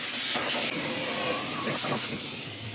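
A Bissell canister vacuum cleaner runs on a hard floor, giving a steady, loud, hissing roar throughout with slight shifts in tone as it moves, and no speech.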